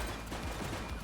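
Rapid burst of gunfire during a police shootout in The Precinct video game, dense and loud, crackling without pause through a short moment.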